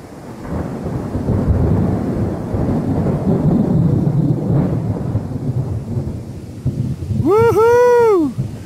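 Thunder rumbles and rolls through a storm front over a vanlife campsite at Hurd Park, long low booms under steady rain, with a brief whoosh and sharp warbling tones near the end.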